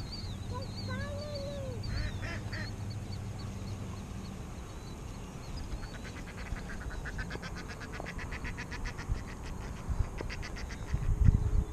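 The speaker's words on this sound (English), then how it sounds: "You hear the ducks?" Ducks quack and honk near a fishing spot on the water, a few short calls early on. They sit over a steady outdoor background, with faint talking and fishing noises around them.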